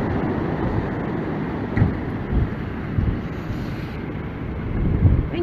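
Strong storm wind buffets the microphone outdoors on a street in Roosendaal, Netherlands, where a tree has fallen onto a car, a steady low roar with a few louder gusts and no talking.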